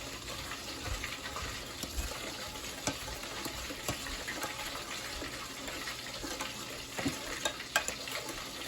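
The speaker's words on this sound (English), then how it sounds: "We're gonna whisk this all together, or mix it all together." Brown sugar and pineapple are whisked together into a sweet and sour sauce, giving a steady wet swishing and clinking that runs through the clip with a few sharper taps against the bowl.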